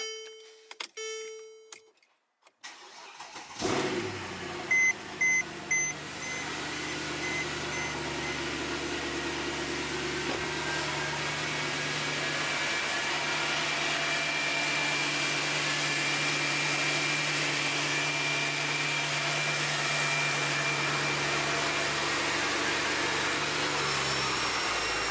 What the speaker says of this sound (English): I'm going to start the car real quick, just to kind of warm it up